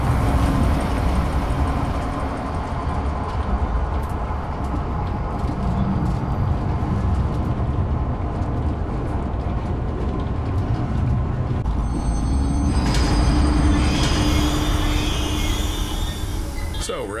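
A train in the video game Zoochosis rolls along continuously with a loud, steady rumble and clatter, with brighter metallic squeals and tones joining toward the end.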